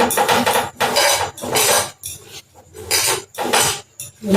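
Capsicum and onion chopped on a board, a run of fast, sharp knife taps in bursts separated by brief pauses, close and loud with no talking.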